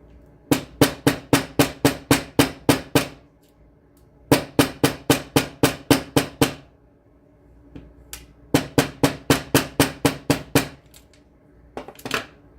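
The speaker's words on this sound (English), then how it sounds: "I'm going to start by hammering this" Three bursts of rapid, evenly spaced metallic taps of a hammer on jewelry wire, about eight to ten strikes each, separated by short pauses, with a few final taps at the end.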